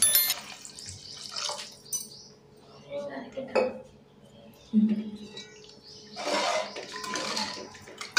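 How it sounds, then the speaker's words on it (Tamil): Water is poured into a cooking pot of bitter gourd kuzhambu with tamarind, with a soft trickle amid metallic clinks of utensils against the pot. The sounds come close by in short bursts with pauses. "இப்போ தேவையான அளவு தண்ணி சேர்த்துக்கணும்."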